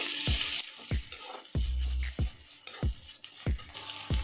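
Finely chopped onions fry over a full flame, a steady close sizzle with sharp repeated scrapes of a spoon stirring against the pan at a regular beat.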